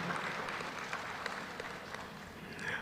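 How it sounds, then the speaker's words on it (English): A conference and awards audience gives another round of applause for the sponsors, a soft, distant patter of many hands clapping steadily. "Another round of applause, ladies and gentlemen, for our sponsors."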